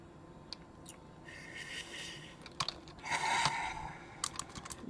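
Keys clatter on a computer keyboard in irregular bursts of soft, close clicks and taps, with no voices.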